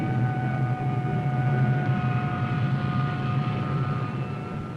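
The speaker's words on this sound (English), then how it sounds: "the strike aircraft get off to keep the enemy's planes on the ground" Strike aircraft take off from a ship during a 1960 Royal Marines assault exercise, a loud sustained engine roar with steady droning tones that swells slightly and holds, no voices present.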